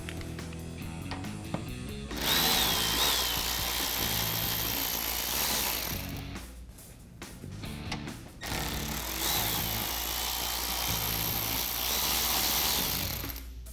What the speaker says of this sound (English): now we can remove our last 2 7mm screws.